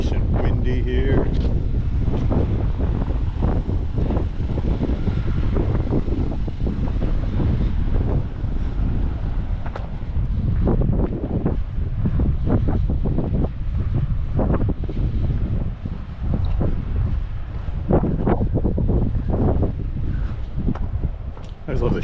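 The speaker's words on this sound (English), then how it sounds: "Nice and windy here." Strong coastal wind buffets the microphone near a beach in Denmark or the Faroe Islands, loud and continuous with gusty roaring, while someone talks intermittently over it.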